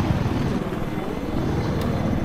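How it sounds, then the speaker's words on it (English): Battlefield helicopter rotor thumping steadily and loudly throughout, a continuous close chopping drone of blades with engine whine, no voices over it. "There's a helicopter."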